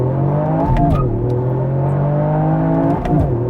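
A Toyota GR Yaris or Supra launches on a drag run. Engine tone holds steady near 4,000 rpm, drops briefly as the clutch bites, then climbs again, followed by a second shift-like dip near the end. Close and loud, no talk.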